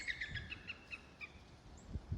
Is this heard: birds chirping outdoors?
yes